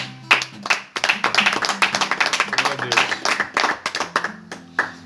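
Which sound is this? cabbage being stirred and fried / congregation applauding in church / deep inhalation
congregation applauding in church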